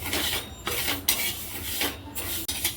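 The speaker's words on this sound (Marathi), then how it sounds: "आता ही मेथी आपण छान अशी भाजून घेऊया जास्त अशी करपळची नाही हलकीच भाजायची" Fenugreek seeds lightly roasting on a hot griddle are stirred and scraped in irregular rasping strokes, with gritty rattles and short scratchy bursts close by and no talking.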